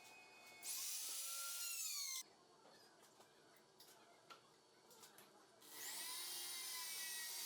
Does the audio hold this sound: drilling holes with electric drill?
yes